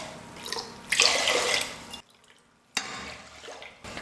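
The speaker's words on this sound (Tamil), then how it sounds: "முதல்ல அரிசி பருப்புக்கு தண்ணி சேர்த்துக்கிறேன்." Water poured onto rice and moong dal for pongal, a splashing pour that stops abruptly, followed by a brief quiet and then a second shorter pour. Close and fairly soft, with no talking.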